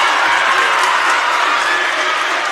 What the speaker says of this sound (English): Well, look at this home crowd fired up.